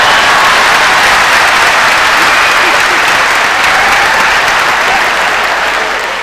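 A large studio audience at a Tamil pattimandram debate show claps loudly and steadily in dense, sustained applause for about six seconds, fading slightly at the end.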